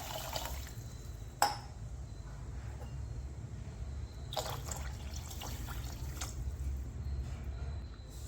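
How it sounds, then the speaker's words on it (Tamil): Half a litre of water trickles and pours steadily into a cooking pot for black gram porridge, with a few brief splashy bursts over a constant low rumble; no one speaks. "இது கூட 1/2 லிட்டர் தண்ணி ஊற்றிக்கோங்க."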